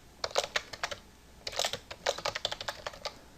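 Text being typed on a computer keyboard: quick, light key clicks come in uneven bursts with brief pauses between them, close by and fairly quiet, with no voice.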